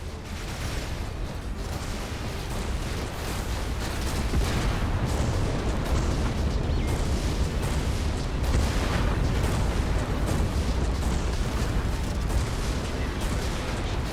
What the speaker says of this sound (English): Several torpedoes are incoming.